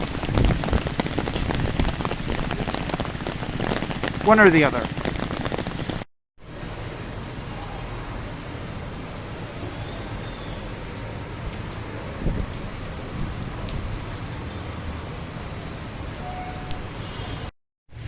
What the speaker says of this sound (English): if the rain stops within like an hour or something, I might come back yet today